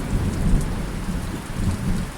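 Steady heavy rain pours with a low, rumbling thunder roll underneath during the first thunderstorm of 2025, dense and continuous up close, no voices.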